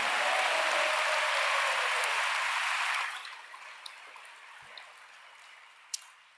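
A large audience at a Bowling Green State University spring commencement ceremony applauds in a dense, steady burst for about three seconds, then the clapping quickly dies away to a few scattered claps in a quiet hall.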